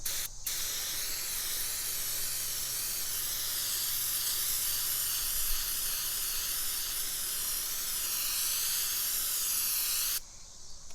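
Brake cleaner sprayed onto car paint in one long continuous aerosol hiss lasting about ten seconds, close and steady, then cutting off abruptly.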